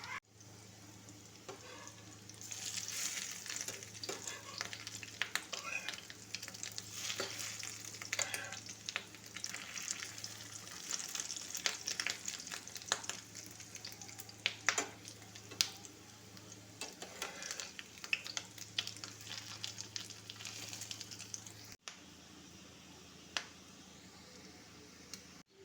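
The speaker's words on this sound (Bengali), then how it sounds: "এবারে প্যানে ভালো করে সর্ষের তেল গরম করে বড়াগুলো ভেজে নিতে হবে।" Fish roe fritters fry in hot mustard oil in a pan, a steady close sizzle with soft crackles and occasional stirring taps running for about twenty seconds before the frying dies down near the end. No one speaks.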